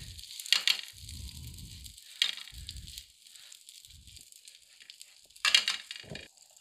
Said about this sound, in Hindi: ये जो हमने गूंदे पीस के रखी थी इसको हम अच्छे से फ्राई करेंगे।